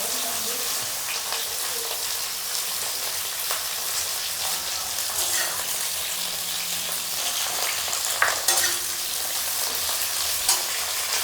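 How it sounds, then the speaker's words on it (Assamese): Carrots and beans stir-fried with cauliflower in hot oil in a kadai, a dense continuous sizzle with scattered scraping and clinking of a spoon stirring, close and steady throughout. "তাৰপিছতে গাজৰ আৰু বিনটো দি দিম।"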